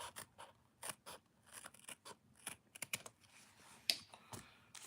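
Small scissors snip around embroidered fabric patches in a string of quiet, close cuts and clicks, irregular in pace, with no one speaking.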